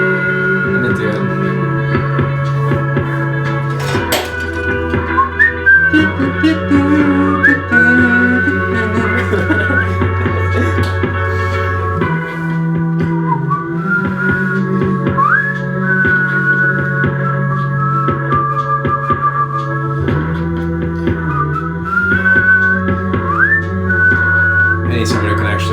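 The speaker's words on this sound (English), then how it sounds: "I need someone who can actually whistle." A person whistles a wavering melody, bright and close, over sustained low musical tones throughout.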